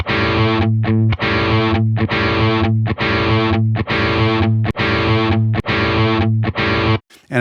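Distorted electric guitar chords through a tube amp or Tonex amp model, strummed in short repeated bursts with brief gaps, loud and close, sustaining through each hit.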